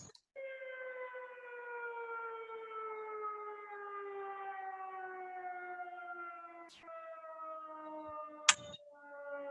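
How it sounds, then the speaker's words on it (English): A steady, loud air raid siren wails for the whole stretch with a slowly falling pitch, broken near the end by a couple of sharp clicks. "Can we hear how loud the air raid siren is"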